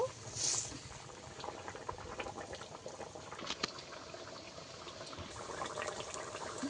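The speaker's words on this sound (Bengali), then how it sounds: "কয়েক মিনিট আমি ভালো করে ফুটিয়ে নেব।" A pot of Bhola fish and eggplant curry bubbles at a steady boil, a soft, continuous simmering hiss that stays faint and close, with no one talking.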